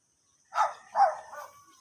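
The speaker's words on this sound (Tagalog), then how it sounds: "So, maraming aso dito mga idol, no. Tahol lang tahol." Dogs barking somewhere outdoors: two quick, fairly faint barks about half a second apart, followed by a softer trailing yelp, with no talk over them.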